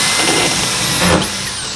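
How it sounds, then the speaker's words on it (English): A power drill pre-drills a pilot hole into a wall stud for mounting a TV, its motor whirring steadily and close, with a brief surge in load near the end. "This is just a matter of pre-drilling to make this go in a little bit easier."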